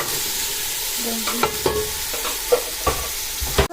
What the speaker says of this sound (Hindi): अभी हम टमाटर और मिर्चें डालने लगे